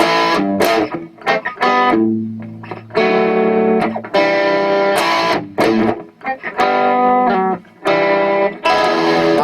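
A distorted electric guitar plays a choppy riff of chords and single notes, loud and close, with brief gaps between phrases and no voices.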